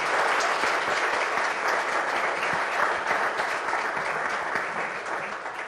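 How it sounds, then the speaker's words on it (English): A seated audience at an extractives forum gives a loud, sustained round of clapping that holds steady for several seconds and eases slightly at the end. "we have a round of applause for this"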